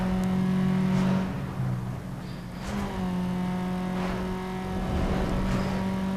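A race car engine in the Need for Speed video game sprint race, revving loud and close with quick gear shifts that drop and climb the pitch, running continuously with no voices.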